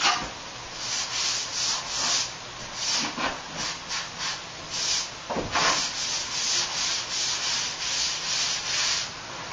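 A sponge rubs across a patched bathroom wall, smoothing the surface with continuous close scrubbing strokes that swell and fade in an uneven rhythm, with no talking.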